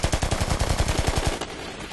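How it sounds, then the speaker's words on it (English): Rapid automatic gunfire in an anime battle: a loud, close burst of evenly spaced shots that ends abruptly after about a second, then a quieter wash of noise. "Shoot them."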